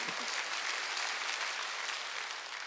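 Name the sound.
congregation clapping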